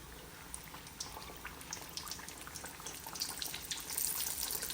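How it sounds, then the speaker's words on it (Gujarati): Cut pieces of leftover roti fry in hot oil, giving a steady crackling, bubbling sizzle that grows slightly louder toward the end, with no talk over it. "હવે આપણે જે રોટલી કાપી હતી શેપમાં એ એમાં નાખી દઈશું તળવા માટે."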